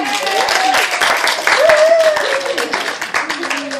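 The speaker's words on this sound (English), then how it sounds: "the horses galloped back to their stables to thunderous applause!" Audience applause and cheering at a play staged at a Renaissance fair, a steady loud wash of clapping from a crowd, with voices calling out over it.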